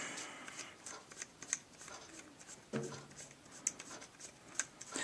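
A small part on an Athearn SD40-2 model locomotive is unscrewed, giving faint, close ticking and scraping clicks at irregular intervals with a couple of brief sharper scrapes, and no talk.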